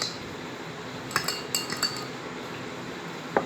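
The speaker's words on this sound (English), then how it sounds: "This sodium chloride I am mixing at one glass" Salt stirred into water in a drinking glass: a spoon clinks against the glass in a quick cluster of light taps, close and clear over a low background hiss.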